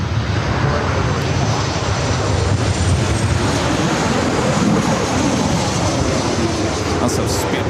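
A British Airways Boeing 777-300ER jet roars on its takeoff run on the south side at LAX, a loud, broad continuous rush heard from nearby, with a voice talking faintly under it.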